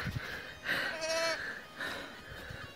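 Newborn twin lambs and their mother sheep bleat in a few short, thin calls spaced across a couple of seconds, heard fairly close in a quiet rural setting.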